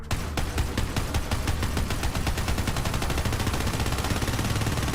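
A weapon in Borderlands 3 fires a continuous, very rapid stream of shots, loud and dense without pause, with no voices over it.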